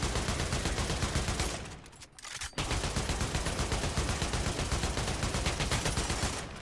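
AK rifle fire in the VR shooter Pavlov VR comes as long, rapid bursts of loud, close gunshots, broken by one short pause before the firing resumes, with no talking.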